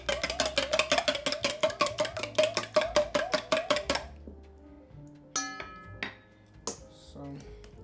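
An egg beaten in a bowl with a utensil, a steady run of about twenty quick, bright clinking strokes against the bowl, then a few scattered clanks and kitchen handling noises.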